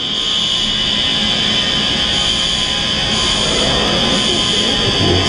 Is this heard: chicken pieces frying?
no